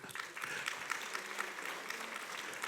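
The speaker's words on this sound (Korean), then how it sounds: "박수!" Church congregation applauding during a Sunday worship service, a steady, dense clatter of many hands clapping continuously throughout, fairly loud and even with no break.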